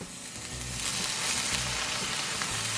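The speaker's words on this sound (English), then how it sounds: "Get it frying in there." Steady loud sizzling of marinated bulgogi beef frying in a hot wok, a continuous crackling hiss with no talking.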